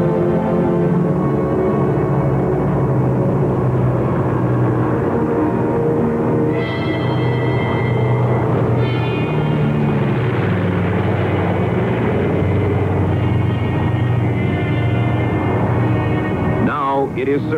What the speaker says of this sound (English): Only a day away from Israel, they are spotted by a British plane.